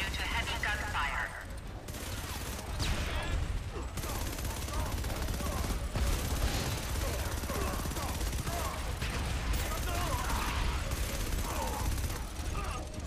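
Heavy gunfire rattles through a battle in the video game StarHawk, continuous overlapping bursts and booms at steady loudness throughout, with someone talking over the action.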